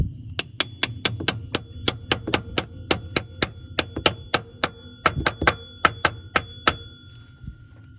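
Hammer tapping on a car's power steering pump during replacement, about twenty sharp metallic taps in a steady quick rhythm, close and clear with no talk.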